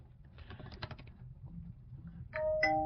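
A mobile phone chimes with a short notification tone at the end, after faint clicks and taps during a card game, quiet and nearby with no talking.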